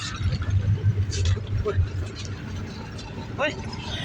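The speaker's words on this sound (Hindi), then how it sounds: "फाइनली गाड़ी आ गई। गांव से ही हमें गाड़ी मिल गई है लाहौर के लिए।" A car hums and idles nearby at a village before a trip to Lahore, its steady engine sound running under people talking.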